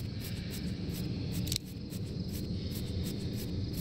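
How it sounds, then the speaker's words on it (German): Bees buzz in the Deponia Doomsday video game as a steady, dense insect drone that holds at an even level throughout, with no voices. "Das sind gute Bienen."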